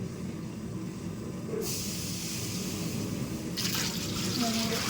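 Water is poured into large pots of rice being cooked for a mass meal, a steady rushing flow that swells louder twice, with faint voices in the background.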